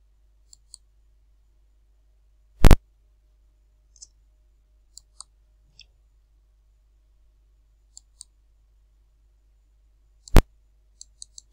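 A computer mouse clicks sparsely in a quiet room, with soft single and double clicks spread unevenly and two louder sharp clicks standing out.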